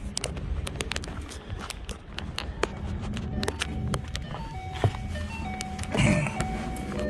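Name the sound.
car engine starting after mass airflow sensor reconnected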